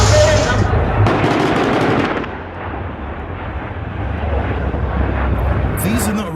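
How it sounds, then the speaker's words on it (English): American military aircraft passing overhead during a siege in Deir ez Zor, a loud continuous broadband roar with heavy rumble and bursts resembling gunfire, sustained and close throughout, with voices underneath. "These are American planes."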